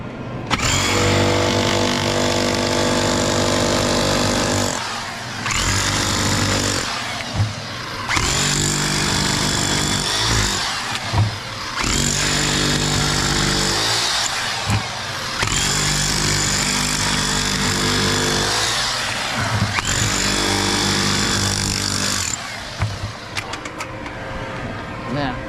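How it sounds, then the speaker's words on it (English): A jackhammer breaks rock at an Australian sapphire mine, pounding in long loud bursts of several seconds separated by short pauses, with a voice talking at times. "And one jackhammer."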